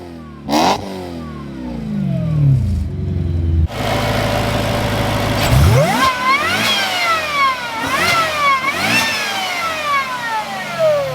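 A supercharged BMW E90 M3 with a Harrop supercharger revving hard and repeatedly, a loud rising and falling engine howl with several sharp blips after a brief idle start, close by.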